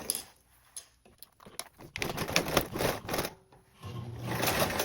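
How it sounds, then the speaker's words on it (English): A sewing machine stitches a quarter-inch seam on a tote bag, its motor whirring in short starts and stops before settling into a steady, close run of needle chatter. "Now we're going to sew with a 1/4 seam allowance."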